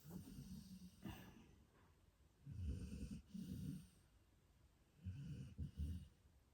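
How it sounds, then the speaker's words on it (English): Low, rumbling snores repeat in slow cycles, several drawn-out breaths spaced a second or two apart, fairly quiet and close. "Well, the snoring's so loud, isn't it, guys? It's very distracting."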